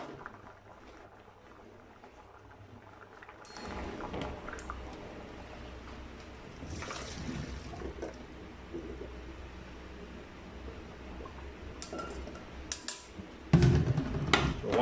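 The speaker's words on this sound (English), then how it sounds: "Then you strain off the water." Water strains off half-cooked chicken breasts in a pot, a faint, splashy gush that starts abruptly, keeps on as an uneven watery rush, and ends with a louder slosh.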